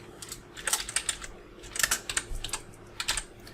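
Keystrokes on a computer keyboard as text is typed into meme-making image software, coming in quick irregular bursts of sharp clicks, fairly close and clear with no talk.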